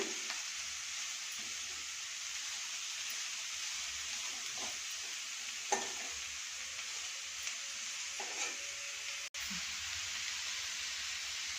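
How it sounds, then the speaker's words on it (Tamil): Grated cabbage, capsicum and other vegetables for a momo filling sauté in a pan with a quiet, even sizzle broken by a few soft stirring scrapes. "வெஜிடபிள்ஸோட பச்சை வாசனை போகிற வரைக்கும் நல்லா வதக்கிக்கலாம்"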